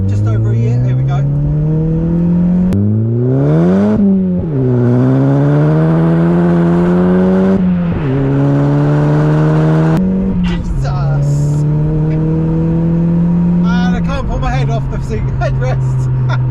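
A Volkswagen Polo GTI hatchback accelerates hard through several gears from inside the cabin, the engine note climbing and dropping at each shift, loud and steady, with occupants talking over it.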